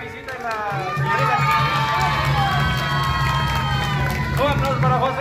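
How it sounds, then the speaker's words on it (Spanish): Children and adults at a Christmas hot-chocolate gathering cheer and shout, with lively high voices and some clapping mixed in, loud and continuous from start to finish. "Un aplauso para Gaby."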